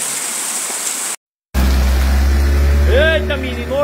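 Heavy rain pours at a rural farmstead in the northeastern Brazilian backcountry, with water gushing from a spout in a steady, loud rush; after a brief gap, someone talks over the downpour.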